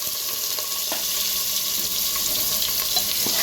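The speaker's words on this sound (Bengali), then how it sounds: "আলুগুলোকে আমি ভালো করে তেলে নাড়াচাড়া করে, খুব বেশি মানে লাল করে ভাজবো না, হালকা ভাজা করে নেব।" Potatoes and whole cumin seeds frying in hot oil for a vegetarian cabbage curry give off a steady, loud, close sizzling hiss that runs unbroken throughout, with faint clicks and no voices.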